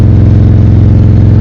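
A motorcycle rides along a country road past old barns, its engine producing a loud, close, steady droning hum that holds an even pitch throughout.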